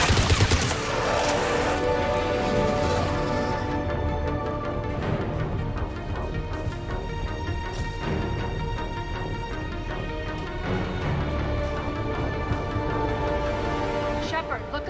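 Squad gunfire rattles through a Mass Effect 3 firefight in rapid bursts and sharp cracks, layered over a game music bed with voices in the mix.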